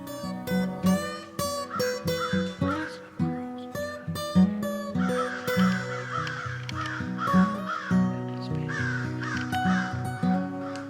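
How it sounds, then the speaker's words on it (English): Several crows caw harshly and repeatedly near a hunting tree stand, their calls overlapping in a noisy, agitated fight that continues without pause. "the crows that decided to have a fight right by our tree stand"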